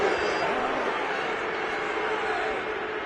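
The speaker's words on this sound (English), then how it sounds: "Well, this crowd does not like that call." A stadium crowd at a football game murmurs and roars unhappily after a penalty call, a steady, dense wash of many voices at a distance with no break.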